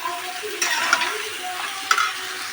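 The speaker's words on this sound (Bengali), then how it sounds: "এর মধ্যে আমি চিংড়ি মাছগুলো দিয়ে দেব দিয়ে বেশ কিছুক্ষণ কষতে হবে" Prawns sizzle as they are stir-fried in a spiced masala, with a steady hiss of frying broken by a few sharp scrapes of stirring over about two and a half seconds.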